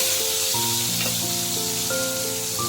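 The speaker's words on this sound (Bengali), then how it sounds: "এবার আমি মোচা বাটাটা এই তেলের মধ্যে দিয়ে দেব" Banana flower paste hits hot oil tempered with cumin and sizzles steadily, a soft continuous frying hiss that sits beneath louder background music throughout.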